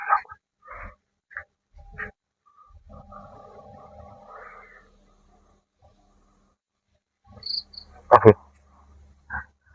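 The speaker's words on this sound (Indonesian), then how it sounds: "Ada jangkrik pemirsa ya." Crickets chirp in short bursts at night at an old coconut warehouse in Magetan, East Java, faint and close, with soft breathing and a sharp louder noise near the end.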